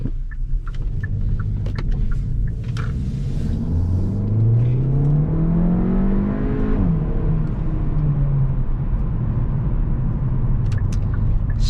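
A 2021 Hyundai Elantra N Line drives steadily with a deep engine rumble, the pitch rising as it accelerates through gears, with road noise throughout.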